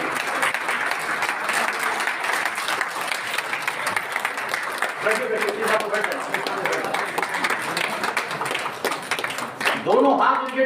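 Audience applause at a Raipur Green Army officer-installation ceremony welcoming a guest, steady broadband clapping sustained throughout, with voices and crowd noise mixed in.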